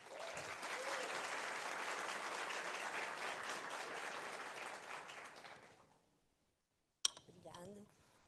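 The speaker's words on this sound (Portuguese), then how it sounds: "Uma salva de palmas para a Tati." A meetup audience applauds steadily for about six seconds, the clapping dense and even before fading out; after a short silence a sharp clink sounds and a voice begins.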